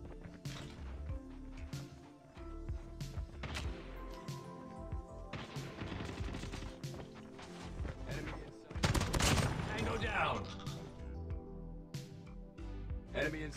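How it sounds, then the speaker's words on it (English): Rapid bursts of JAK-12 shotgun fire in Call of Duty Mobile ring out through a close-range firefight, repeated sharp blasts layered with other gunfire and game effects while a player talks over the action. "this shotgun is crazy. I think it's gonna be definitely OP."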